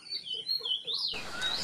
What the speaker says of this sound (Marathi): सुंदर हळद्याचा असा स्वर ऐकून आम्हाला आश्चर्यच वाटले